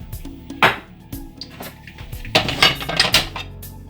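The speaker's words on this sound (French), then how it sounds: "je fais des va-et-vient avec ma poêle pour bien que l'huile d'olive se répartisse bien à fond de la poêle" A frying pan with olive oil slides back and forth on the stove, producing close metallic clatters and scrapes in irregular bursts, loudest near the end.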